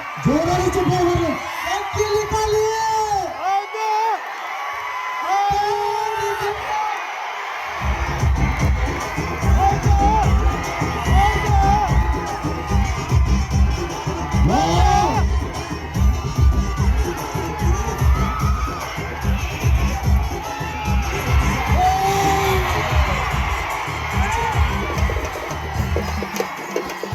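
A large crowd at a traditional kusti wrestling bout in Banahatti roars and cheers loudly and continuously, with shouts and whoops, briefly dipping early on before swelling again into a dense, sustained din.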